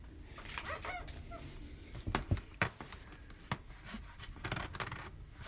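Pennies clinking and dropping one after another during a penny hunt through rolls of 1960s coins, a cluster of sharp metallic taps near the middle over quiet rustling, close and fairly soft.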